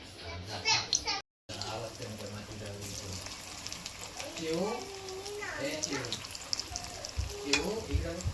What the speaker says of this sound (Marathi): अशा प्रकारे चिकन आपण फ्राय करून घेऊया